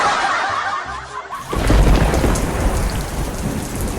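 Heavy rain pours down with deep rolling thunder; a quieter opening second gives way to a loud, dense downpour and rumble that continues steadily to the end.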